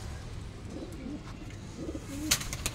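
A Punjabi Malwai pigeon gives two soft, low coos close by against quiet background noise.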